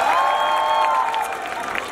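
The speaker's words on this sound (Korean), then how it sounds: "고생하시는 감독님한테 박수 한번 주시고요" Applause from a university festival crowd for the director, brief clapping and crowd noise under sustained music tones, fairly loud.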